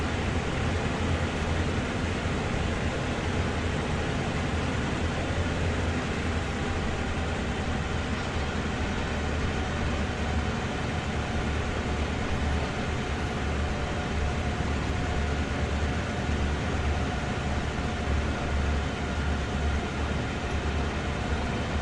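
Train sounds from the video game Train Sim World 2 on PS4: a steady, loud, unbroken rumble and roar of a moving train that holds level throughout with no talking.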